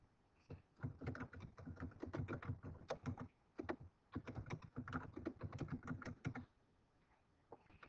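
Rapid keystrokes on a computer keyboard, close and crisp, come in dense bursts with a short pause in the middle, then trail off near the end. No one speaks.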